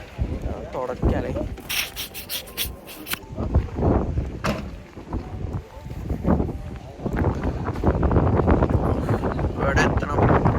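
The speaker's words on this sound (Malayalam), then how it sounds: "നല്ല കാറ്റുണ്ട്, തണുപ്പ് കുഴപ്പമില്ല." A blustery wind on a Coorg hill rumbles and rubs against the microphone in uneven gusts, growing heavier toward the end, with someone speaking nearby throughout.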